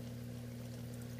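Water is drawn up steadily in a recirculating deep water culture hydroponic system, a constant pouring, trickling rush with a low steady hum beneath it.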